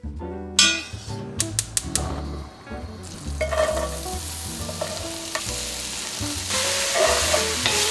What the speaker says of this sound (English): I'm gonna start by sauteing all these veggies in some butter.